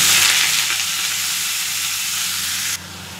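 Water lily stems hit hot oil tempered with mustard seeds and black cumin, a loud, dense sizzling hiss that holds steady close by and then drops off sharply just before the end.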